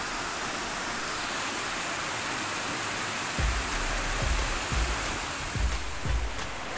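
Water pouring down at Fish Point waterfall in Mainpat makes a constant broad rushing roar, with a few low thumps in the second half; no talking.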